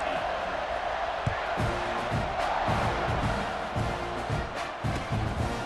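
A stadium crowd in EA Sports College Football 26 roars and cheers steadily in the background at kickoff, a broad wash of noise under a commentator's talk with a few thumps.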